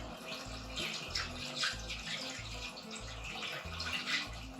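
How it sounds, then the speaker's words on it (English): Water pours and splashes through a funnel into a glass cider jug while rinsing powder down, a steady low gurgling and running sound, fairly quiet and alone. "we'll rinse it all down in there and help blend it up a little bit"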